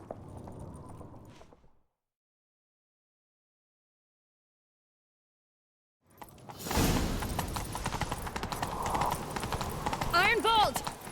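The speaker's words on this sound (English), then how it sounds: "Grab a horse, we'll chase him down." Horses gallop in The Witcher 3, a rapid, loud clip-clop of hooves that starts after a few seconds of silence. A voice is heard briefly at the start.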